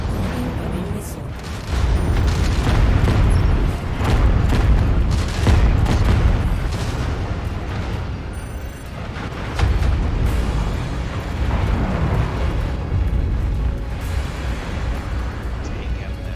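Missile explosions in the mech combat game MechWarrior 5: Mercenaries, with heavy booming blasts and rumbling impacts layered over continuous battle noise and game voice callouts, loud and dense throughout.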